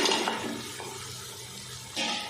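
Mutton trotters tumble into a hot pan of fried onion, ginger and garlic, bursting into a broad loud hiss that settles to a steady sizzle before a second surge of spattering near the end.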